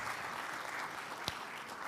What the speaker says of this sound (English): Can we have another round of applause for my amazing speakers?